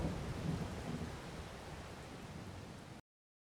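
Rain and thunder in the Farming Simulator 22 video game, a dense, steady hiss of rainfall over a low rumble of thunder that fades slightly before cutting to silence.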